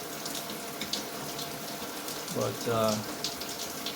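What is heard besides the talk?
water spraying from Dream Spa shower head mist jets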